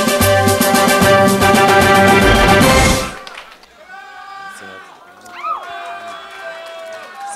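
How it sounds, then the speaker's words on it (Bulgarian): At a 2012 folk music awards ceremony, an audience claps and cheers for award winners in a loud, dense wash for about three seconds, then it drops away to quieter music and a voice. "Аплодисменти за тях двамата!"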